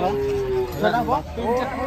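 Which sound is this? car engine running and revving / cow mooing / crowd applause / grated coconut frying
cow mooing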